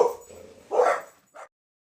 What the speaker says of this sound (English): Sorry, the dogs were barking.